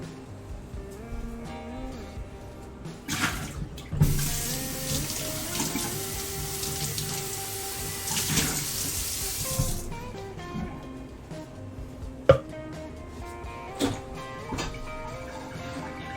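Water runs steadily from a kitchen tap into a sink, a dense broadband rush that swells for several seconds, with clinks and handling noises before and after.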